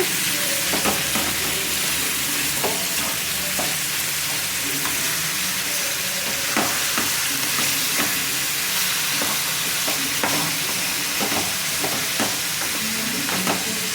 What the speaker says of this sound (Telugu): ఇలా చికెన్ వేసుకొని ఒకసారి గంటతో మిక్స్ చేసుకోవాలండి.